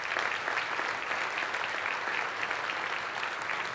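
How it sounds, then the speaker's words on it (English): Audience applause at the ElixirConf 2018 keynote, dense and steady clapping from a large crowd that fills the whole moment without talk. "I didn't expect a clap at this stage"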